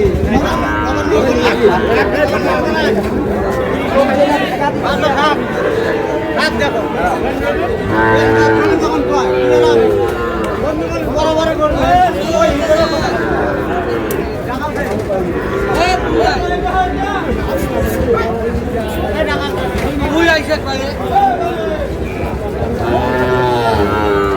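Sahiwal bull calves at a cattle market in Cumilla low and moo repeatedly, several animals close by, over a constant murmur of people chatting and bargaining.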